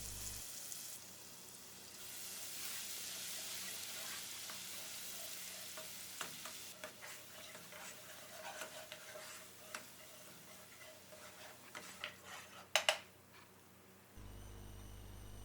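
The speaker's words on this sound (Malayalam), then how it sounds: "ആ ഇഞ്ചി വെളുത്തുള്ളിയുടെ പേസ്റ്റ് ഇതിലേക്കിട്ട് നല്ലതുപോലെ ഒന്ന് മൂപ്പിച്ചെടുക്കണം." Ginger garlic paste sautéing in butter and oil, a steady soft sizzle with occasional light clicks and taps of a stirring utensil near the end.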